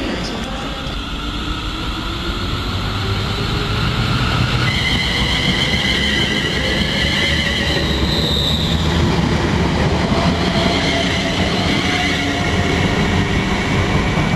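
A train bound for London Euston via Northampton passes close by, with loud continuous rumble, rolling wheel noise and high squealing tones from the rails throughout.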